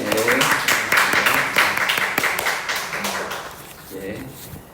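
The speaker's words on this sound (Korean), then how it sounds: "박수 한번 주시죠." A church congregation claps together at a Sunday worship service in Korea, warm applause that builds quickly and then thins out over a few seconds, with a little background speech mixed in.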